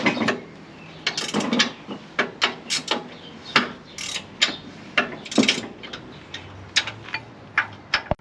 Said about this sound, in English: I think I have successfully broken the ratchet spanner.